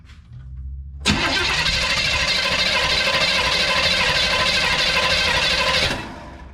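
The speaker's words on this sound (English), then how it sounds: "I'm just going to go crank it a couple of times" 1970 Chevelle engine cranking on the starter for a compression test with the coil disconnected and the throttle plates held wide open: a loud, steady rhythmic churning lasting about five seconds before cutting off, close up, with no speech.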